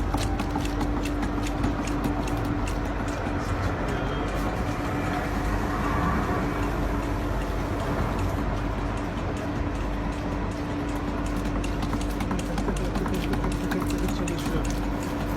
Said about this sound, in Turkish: Evet, su akmaya başladı.